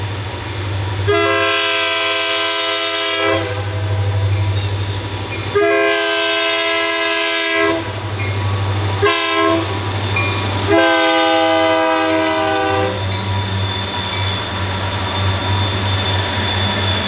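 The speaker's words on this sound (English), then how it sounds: "When those 4 EMDs came screaming by" A Blue Ridge Southern freight train led by four EMD diesel locomotives passes close by, sounding a loud horn in a long, long, short, long pattern over a deep, steady engine rumble.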